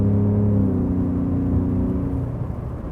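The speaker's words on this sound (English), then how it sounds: "This truck just flat out sounds like it wants to chew your arm off." A 2017 Ford F-150 Raptor's engine revs loud and close, a steady deep rumble that holds strong before easing off slightly toward the end, with no voices over it.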